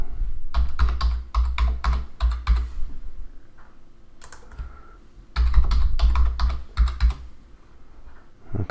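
Close, crisp clatter of a computer keyboard as a password is typed, with quick runs of keystrokes broken by short pauses.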